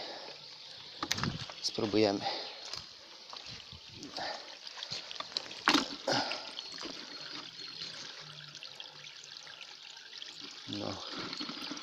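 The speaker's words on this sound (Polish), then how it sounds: "Pierwsze co zrobimy, nalejmy sobie wody." Water is poured into a gold panning dish outdoors, making intermittent splashes and trickles with a few louder gushes; someone talks quietly at times.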